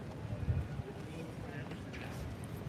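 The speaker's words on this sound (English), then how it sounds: "It's very windy. It's super windy." Strong gusty wind blows outdoors, a rough low buffeting roar that hits the microphone in uneven bursts, with faint voices underneath.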